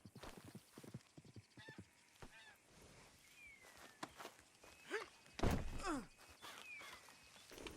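Horse hooves clip-clop in a loose rhythm in Red Dead Redemption 2, mixed with a whinny and scattered honking calls against a busy outdoor background.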